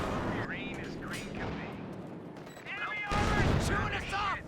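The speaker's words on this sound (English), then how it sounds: "it's a nasty shot from the Panzer IV" A Panzer IV tank cannon shot in Company of Heroes 2 lands as a sharp, loud blast partway through, mixed with battle noise while a voice talks over it.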